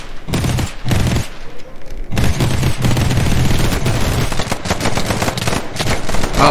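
Rapid bursts of automatic gunfire in the modded Minecraft game Flans Tech, a faction survival match, with loud dense rattling volleys running nearly continuously and a short lull near the start.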